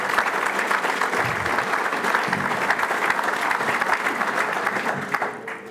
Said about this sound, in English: Valero deserves a huge round of applause.